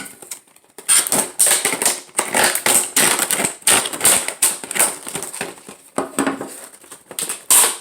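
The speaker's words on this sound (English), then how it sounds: "Cut it open without damaging the booklet." Action figure blister packaging being cut open, a run of close, sharp crinkling and crunching plastic cuts in irregular bursts, with no talking.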